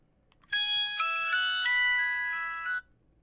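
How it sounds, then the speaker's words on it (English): Phone ringtone for an incoming call, a bright electronic melody of several tonal chimes sounding clearly and alone for about two seconds against a quiet background. "my phone's going to start ringing"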